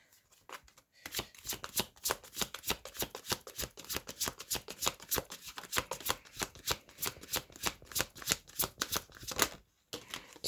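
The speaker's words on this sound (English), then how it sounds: "Let me just shuffle again." Tarot cards being shuffled by hand, a quick, even run of crisp riffling flicks close up, lasting several seconds, no talk.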